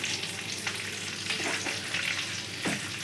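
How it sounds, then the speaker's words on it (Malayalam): Mustard seeds splutter in hot oil in a clay pot for Kerala fish curry, a dense close sizzle broken by sharp pops and stirring scrapes. "കടുക് പൊട്ടും"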